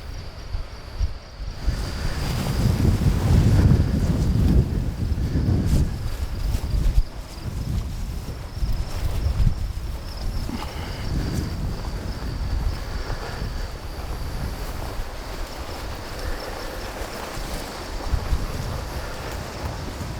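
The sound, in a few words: strong wind blowing at the edge of timber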